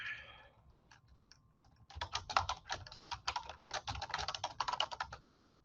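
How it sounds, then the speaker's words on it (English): Typing on a computer keyboard, quiet isolated key taps at first, then a steady run of rapid clicking keystrokes, close and alone. "And then let me just type."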